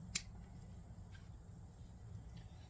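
Pruning shears snip a branch of Osmanthus heterophyllus with one sharp, close cut near the start, then a faint low hum and a couple of soft ticks, with no voice.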